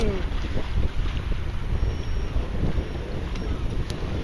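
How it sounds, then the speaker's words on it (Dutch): A boat engine rumbles steadily and loudly, mixed with wind buffeting the microphone and splashing water, with no speech. "Maar dan komt dat die motor een beetje hard staat"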